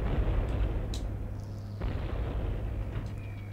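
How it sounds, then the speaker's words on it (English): A deep, rumbling bomb explosion in the G-Police video game, heavy low boom rolling on with a sustained low drone, fairly faint and distant, with no voices over it. "Oh, that's a bomb."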